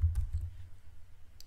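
A few faint, sparse keystrokes on a computer keyboard while a name is entered in desktop software, quiet and close with no talk.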